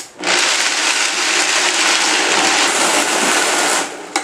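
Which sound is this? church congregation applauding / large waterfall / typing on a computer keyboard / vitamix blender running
vitamix blender running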